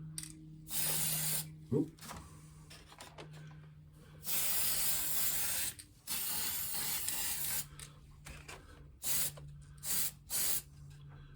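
An aerosol spray can coats the tail of a Me 262 scale model in a series of hissing bursts of varying length separated by pauses. A quiet exclamation is heard early on.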